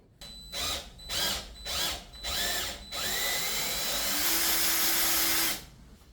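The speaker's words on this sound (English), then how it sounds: "Now we'll go drill and tap those two." A power drill whirs in several short bursts with pauses between, then runs in one longer continuous spin before stopping, drilling holes for tapping on a half-VW engine build.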